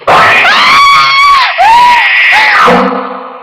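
A woman in a radio drama lets out a long, loud, piercing scream close up, wavering in pitch with a brief catch midway before trailing off.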